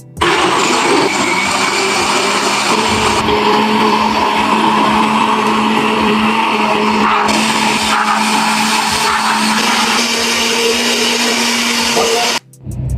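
A loud blender mixing strawberry, apple and banana fruit juice whirs steadily for several seconds, a high grinding motor roar that cuts off abruptly near the end.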